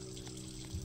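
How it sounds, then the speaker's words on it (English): A faucet runs steadily in the video game Evelyn, a quiet, continuous gush of water with a low pump-like hum beneath it. "I'm guessing we should turn off the faucet."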